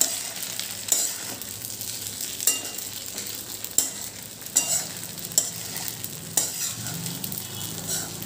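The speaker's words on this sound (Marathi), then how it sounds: "आणि हलक्या हलक्या हाताने आपल्याला हे सगळं मिक्स करून घ्यायचं आहे" Sabudana khichdi gently mixed in a pan: soft sizzling under repeated light scrapes and clinks of a spoon against the pan, arriving every second or so, close and fairly quiet.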